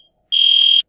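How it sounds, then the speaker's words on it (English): Fire alarm going off inside a building, a single loud, piercing electronic beep lasting about half a second after a brief quiet start. "Apologize for the fire alarm going off as they're working on it in the building today."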